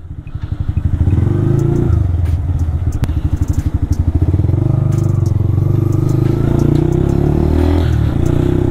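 A motorcycle riding along a road, its engine a loud, continuous rumble with steady throttle and road noise, heard up close throughout with occasional rattling clatter.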